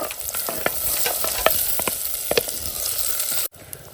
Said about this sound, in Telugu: అలాగే పచ్చిమిర్చి ఉల్లిపాయ కూడా వేసుకోవాలండి నేనైతే వేసుకుంటున్నాను లైట్గా ఇలా కలుపుకోవాలి